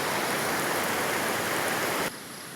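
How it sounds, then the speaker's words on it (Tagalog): Loud, dense rush of heavy rain and churning floodwater overflowing, constant hiss, then abruptly cutting to a quieter background. "Lakas ng ulan."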